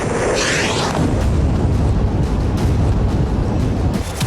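A loud, sustained roaring blast of broadband noise, dense and rumbling for several seconds without letting up.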